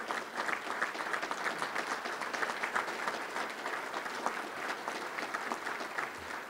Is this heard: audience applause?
yes